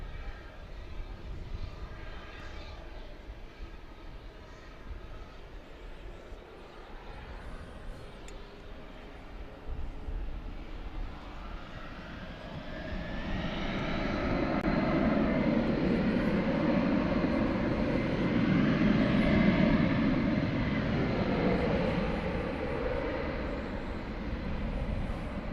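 An American Airlines jet lands on runway 18 right at Dallas Fort Worth airport at night, its engine roar heard faintly at a distance at first, then swelling into a loud, broad rumble.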